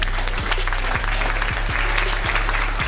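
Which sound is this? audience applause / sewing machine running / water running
audience applause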